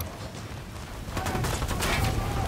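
Sustained gunfire erupts in Ghost Recon Wildlands, rapid overlapping shots building into a loud, dense volley after a quieter opening second, rattling on without pause to the end.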